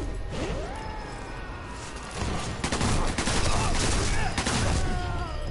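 Machine gun fire in Sniper Elite 4 runs as a dense, continuous clatter, growing louder and heavier partway through amid other crashing battle noise.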